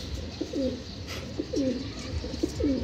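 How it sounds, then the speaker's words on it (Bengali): A domestic pigeon on a breeding farm coos softly and close by, giving three repeated low rolling calls at an even rhythm over a quiet background. "খুব সুন্দর একটা কবুতর।"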